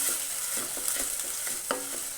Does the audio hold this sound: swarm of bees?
no